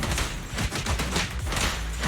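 Rapid bursts of gunfire in the action game Zenless Zone Zero, loud and dense, with overlapping shots and thuds filling the whole stretch.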